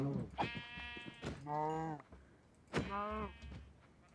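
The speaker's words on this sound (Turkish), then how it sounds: "Bayağı bir koyun var da istemediğimiz kadar." Minecraft sheep bleating in a multiplayer game, three separate wavering bleats spaced a second or so apart, fairly close, with a soft thunk between them and quiet background.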